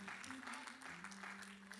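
A church congregation claps in a steady, brisk burst of applause that fills the room, with a voice speaking over it.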